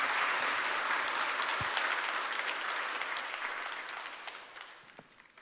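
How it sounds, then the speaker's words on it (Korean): Church congregation applauding to welcome the pastor to the pulpit at a Sunday worship service, a dense sustained wash of many hands clapping that holds steady, then thins and fades toward the end. "우리 목사님 나오실 때 박수로 환영하겠습니다."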